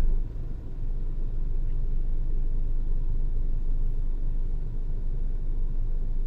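Road traffic on Visayas Avenue in Diliman, Quezon City, heard as a steady, loud low rumble of passing cars with a constant hum and no voices.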